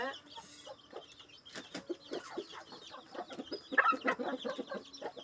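Chickens cluck and chatter in a busy farmyard, a steady mix of short calls from several birds with a rooster-like note, no talking.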